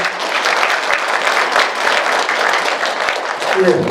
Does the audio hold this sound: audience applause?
yes